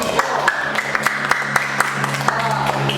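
Classroom students clap in a slow, sparse rhythm, distinct single claps over a background of murmuring voices and a steady hum.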